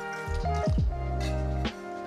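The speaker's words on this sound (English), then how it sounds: "we're just gonna take our cocktail here and pour it right into our tin" Clover Club cocktail made with egg white being poured from a mixing vessel into a metal shaker tin, a short close splashing pour with dripping and glugging that trails off after about a second and a half.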